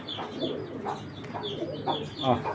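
A large female racing pigeon of a foreign bloodline set loose from the hand, with soft cooing and fluttery bird calls coming in short bursts among other birds close by, with faint background chatter.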